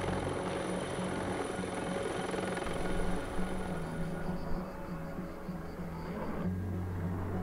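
Firefighting helicopters fly over a wildfire in Europe, their rotors a steady, loud droning roar that holds throughout with a slight shift near the end.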